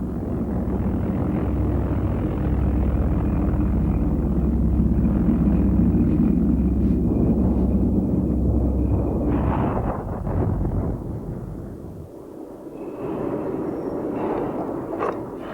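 A WWII V-1 flying bomb's pulsing engine drones loud and steady, then cuts out abruptly, and a dull rumble follows in the quiet afterward.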